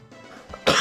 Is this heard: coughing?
yes